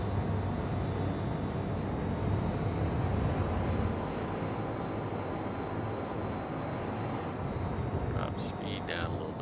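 Spaceship engine in a video game during takeoff: a loud, continuous roaring drone like a jet aircraft, steady and close throughout, with faint tonal chirps near the end.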